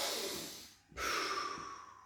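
Close, audible breathing through the nose, a drawn inhale and exhale with a brief pause partway through, heard alone without talk.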